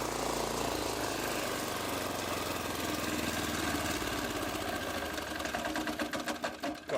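A small 3 horsepower engine fitted to a mobility scooter runs steadily, a busy rattling drone that holds level, then sputters and dies away in the last moment as the engine is shut off.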